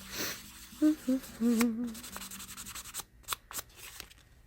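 Faux turquoise sanded by hand with moistened fine-grit sandpaper: faint, short rubbing and scratching strokes, close to the microphone and quiet overall.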